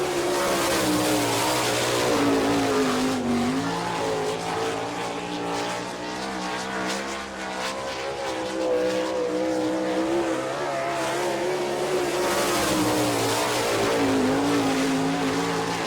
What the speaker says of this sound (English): Jack Honshield in car number 22 from Worcester, Ohio.